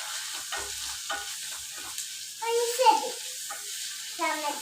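Egg noodles with chicken masala being stirred and frying in a pan: a continuous soft sizzle with scraping stirs, while a person talks over it.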